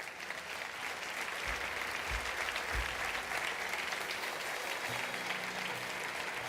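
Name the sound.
church congregation applauding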